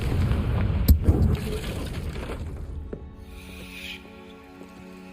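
A Confringo fire-blast spell from Hogwarts Legacy bursts with a sharp boom near the one-second mark, followed by rumbling and mechanical rattling that fades into a quieter, ringing tail.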